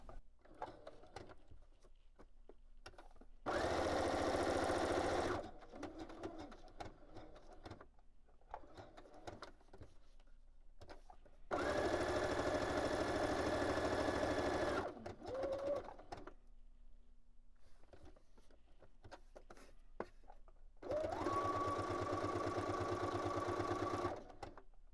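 A sewing machine stitches a straight seam in three loud, steady bursts of a few seconds each, separated by quiet pauses with faint handling sounds and soft pigeon-like cooing in the background.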